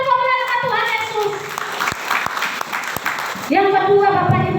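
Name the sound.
congregation applause to glorify Jesus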